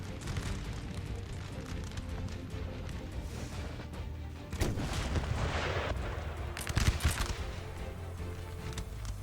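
Napoleonic-era artillery booming across a battlefield in the strategy game Napoleon: Total War, dense rumbling volleys with distant cannon thumps that swell louder midway, rolling continuously beneath game ambience.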